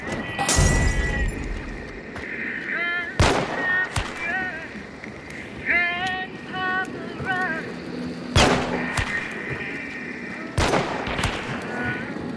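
Gunshots ring out in Hunt: Showdown, with several sharp, loud cracks spread irregularly across the scene and echoing in between. Quieter distant shots, background noise and a speaking voice are heard.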